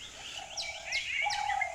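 Two birds of different kinds perched together on a single branch in the wild in Asia chirp and tweet, with a few sweeping calls and a sustained lower whistle, close and clear with no talking.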